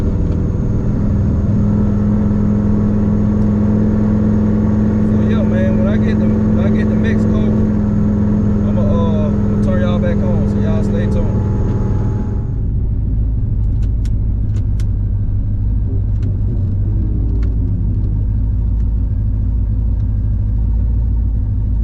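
A turbocharged Camaro on street tires revs and pulls hard on a public street, a loud sustained engine drone that drops off sharply about halfway through into a lower rumble.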